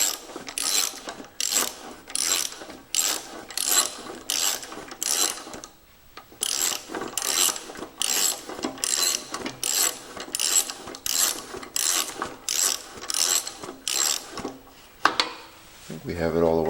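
A hand ratchet works a bolt loose on an old 1960s Allis Chalmers/Simplicity walk-behind mower, giving a long run of rapid rhythmic clicking strokes, close and steady, with a brief pause midway and a clunk near the end.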